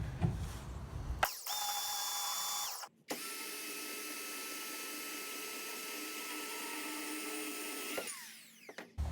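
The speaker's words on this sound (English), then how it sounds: "So I'll cut this piece of angle off" A power tool cuts a piece of steel angle, a steady high whine grinding through metal in two long passes, with a brief pause between them and the motor spinning down at the end.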